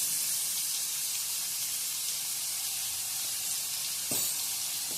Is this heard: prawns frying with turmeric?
yes